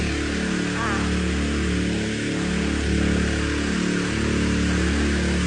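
Two engine-driven 4-inch water pumps, a ripe-papaya orange pump with a 4-metre rigid shaft and a grey flexible-shaft pump, run side by side at equal throttle, giving a steady, loud droning hum with constant harmonic tones.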